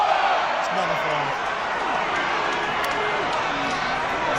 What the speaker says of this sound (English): St Helens crowd really trying to get themselves involved